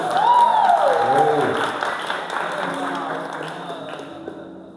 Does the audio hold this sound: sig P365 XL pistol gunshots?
no